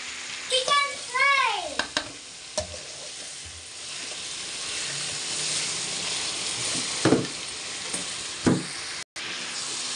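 Chicken fry sizzles in a pan with a steady, hissing crackle throughout, broken by a few brief, high, chirpy voice sounds near the start.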